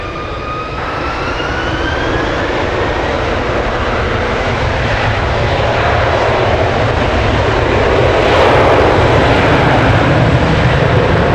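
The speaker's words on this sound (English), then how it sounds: "Take off, runway 1 right, American 2177." An American Airlines jet takes off from runway 1 right at San Francisco International Airport, its engines building into a loud, steady, broadband roar that swells slightly toward the end, with no voices.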